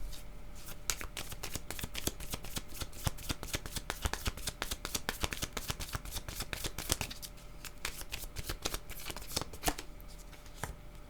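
Deck of oracle cards being shuffled by hand, a close, rapid series of crisp riffling flicks and slaps in steady bursts, continuing throughout.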